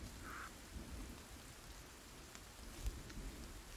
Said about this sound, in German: das Gewitter klingt so fucking realistisch